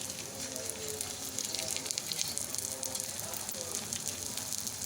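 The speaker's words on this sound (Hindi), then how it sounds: "ये देखिए इसको मैंने तवे पर डाल दिया। अब एक साइड होगी फिर इसकी साइड चेंज कर दूँगी।" A besan (gram flour) roti sizzles on a hot tawa griddle, making a soft, steady crackle and hiss that runs throughout at low volume.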